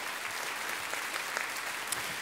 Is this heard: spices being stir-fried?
no